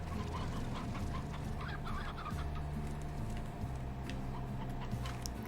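Chickens cluck steadily in the video game Slime Rancher, a busy, continuous chorus of hens and fowl with no talk over it.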